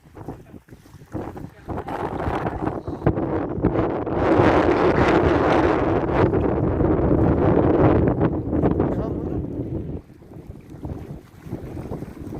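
Strong wind roars at sea aboard a fishing boat, a steady, buffeting rush across the microphone that swells to a loud peak and eases off near the end.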